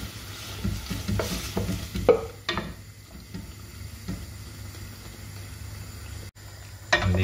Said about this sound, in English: After 10 minutes that our meat is cooking, we can add our tomato sauce.